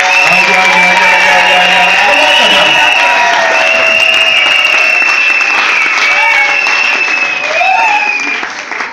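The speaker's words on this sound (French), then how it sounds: "Non, c'est comme ça que tu acclames." Audience at a church sermon applauding and cheering loudly and continuously, dense clapping with raised voices, fading slightly at the end.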